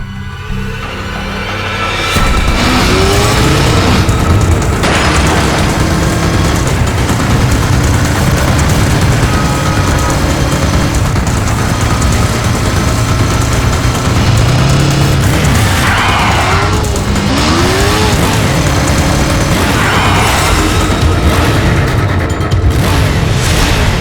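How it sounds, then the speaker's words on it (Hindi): Motorbike racing at speed in a dramatic chase, a loud, continuous engine roar with rising and falling whine, mixed with booming impacts and swooshes throughout. "तुम बाइक क्यों नहीं रोक रही?"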